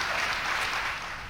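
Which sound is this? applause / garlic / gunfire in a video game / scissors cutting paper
applause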